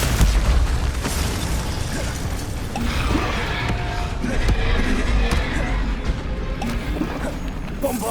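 Bombarda spell explosions and combat effects in the Hogwarts Legacy video game, a loud, dense run of booms, bursts and crashing impacts that continues throughout.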